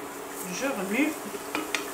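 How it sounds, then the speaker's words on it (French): Carrots and coconut soup are stirred in a pot, making brief close scraping and clinking strokes with a faint sizzle underneath over a couple of seconds. "Je remue."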